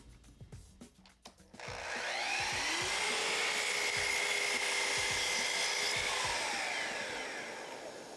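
Power saw cutting a 45-degree miter in a board for an outdoor table, starting with a few clicks and handling noises before a loud sustained whine through the cut that tapers slightly at the end.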